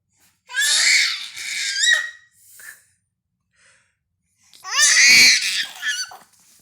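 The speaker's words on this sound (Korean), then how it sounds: "왜 소리 지르는 거야?" A baby lets out two long, piercing high-pitched screams separated by a pause filled with small breathy babbles, loud and close.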